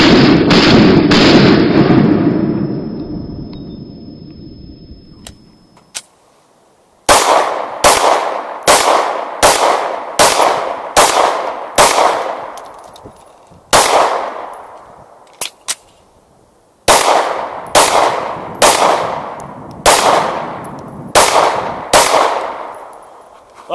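An HK VP9 pistol fired rapidly at a shooting range, slowed down: a long decaying blast, then two bursts of about eight sharp, evenly spaced shots, each ringing out with a trailing echo, no voices.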